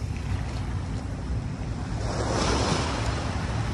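Gentle small sea waves at Dolomite Beach on Manila Bay washing in continuously, with a soft rush of water and some wind noise over the microphone, no voices.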